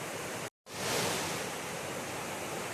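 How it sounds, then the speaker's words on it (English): Rapids on the Little River Trail, tumbling water rushing as a steady broadband roar, close and loud, with a brief dropout near the start before the churning sound resumes. "Oh, I love those rapids, the tumbling water."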